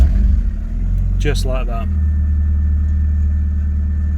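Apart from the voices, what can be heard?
MG ZR 120 car engine starting and idling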